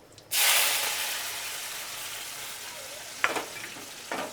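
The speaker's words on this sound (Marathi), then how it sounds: "कडक तेलात कढीपत्ता, कांदा, टमाटा, कोथिंबीर सर्व सोबत" Curry leaves, onion and tomato hit hot oil with a sudden loud sizzle that gradually settles into a steady frying hiss, with a couple of brief stirring clatters near the end.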